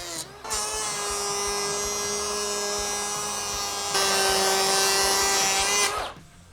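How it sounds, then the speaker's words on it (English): A Milwaukee cordless planer cuts a 2x6 white pine board on a bench with a steady, loud, high-pitched whine that holds for about five seconds, grows slightly louder partway through and then spins down abruptly. "we're gonna take it up against our 2x6 fine white pine we have here on the bench, give it a couple cuts"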